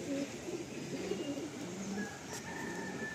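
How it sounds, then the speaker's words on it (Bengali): Pigeons in a loft, with soft low cooing and murmuring throughout against a steady background hum; faint higher bird calls appear near the end. "আর এই হচ্ছে পায়রাটা"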